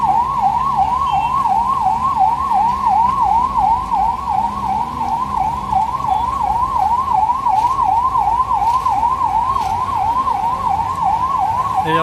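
An ambulance siren wails continuously and loudly on a flooded street in Guwahati, with a fast, steady, repeating up-and-down cycle that holds for the whole stretch.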